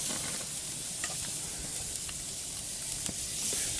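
Shrimp tails sizzle on a hot barbecue grill, a steady dense crackle with small pops and ticks scattered through, loud and close with no talking.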